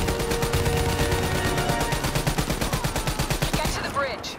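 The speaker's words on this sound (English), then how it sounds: "Give me some cover fire." Sustained automatic gunfire pounds in a rapid, even stream during a Call of Duty: Black Ops 3 mission, loud and close, laying down cover fire before fading into a voice near the end.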